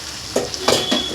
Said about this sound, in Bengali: কড়ার মধ্যে যে আলুটা ভেজেছিলাম এই আলুর মধ্যেই এই হাতে মাখানো মাছটা দিয়ে দেব